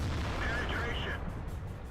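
Tank guns firing in a World of Tanks battle between tier 9 tank destroyers and heavy tanks such as an E100 and T62, a dense continuous rumble of booming shots and battle noise under faint talk.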